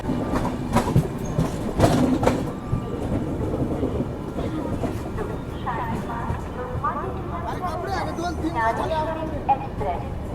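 The Gyaneshwari Express passenger train from Kolkata to Mumbai rolls along with steady clickety-clack of wheels over rail joints and rumbling carriage noise, while people talk nearby over it.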